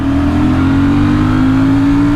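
Royal Enfield Classic 650 Twin motorcycle revving hard, a loud close engine note rising steadily in pitch as it accelerates, with no voices over it.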